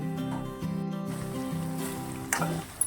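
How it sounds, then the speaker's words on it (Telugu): Chicken pieces frying in oil for pickle, a steady close sizzle that runs the whole time over a humming tonal background, with a short sharper crackle near the end. "ఇదిగోనండి చికెన్ అలా ఫ్రై అవుతుంది చూసారా?"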